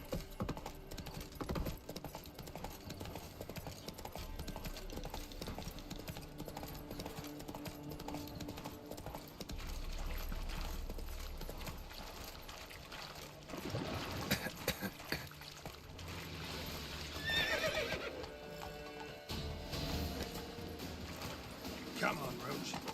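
Hooves of the horse Roach in Witcher 3 clip-clop in a steady rhythm through gameplay, fairly faint beneath frequent talking from a player.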